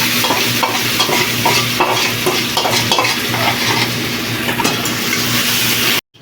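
Marinated chicken for biryani sizzles steadily in a hot pan while being stirred, a loud, close, continuous fry with rhythmic scraping strokes and no voices, cutting off abruptly at the end.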